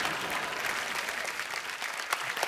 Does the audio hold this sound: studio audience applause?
yes